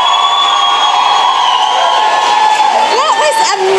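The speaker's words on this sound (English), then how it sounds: "Can we give another round of applause to Steve and ShanDien?" A crowd cheers and whoops loudly and steadily, with a few high whistles rising near the end.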